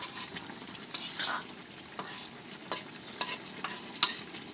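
Drumstick (sajna) curry with spices bubbles in a pan, a soft continuous sizzle marked by scattered sharp ticks and spatters, fairly close and quiet, with no talk.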